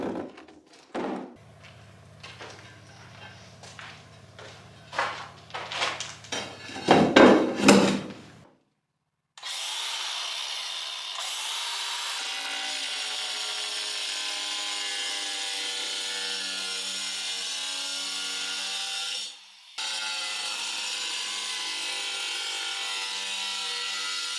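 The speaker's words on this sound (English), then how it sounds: "I think the grinder's too much for them tiles." Inside a barn, a few knocks and clattering handling noises come first. Then an angle grinder cuts tiles with a loud, sustained high-pitched grinding whine that pauses briefly once before carrying on.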